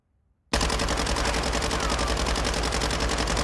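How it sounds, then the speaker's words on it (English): Sustained automatic gunfire in Warzone 2, a weapon fired at a wall, bursting in abruptly after a moment of quiet and continuing as a rapid, loud, unbroken stream of shots. "Let's shoot it at the wall and see here."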